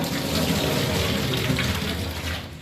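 Tap water runs loudly and steadily while masoor lentils are rinsed and swished in a bowl, a close, continuous rush of splashing water with no talking.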